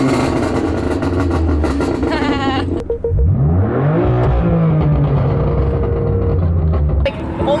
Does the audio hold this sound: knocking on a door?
no